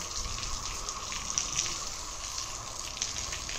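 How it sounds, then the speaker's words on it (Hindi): Water gushes steadily from a hose or tap onto sandy ground in a village courtyard, a continuous close hiss and splash with small drips and spatters throughout, no voices. "इसमें जो है ना पानी लगाना है"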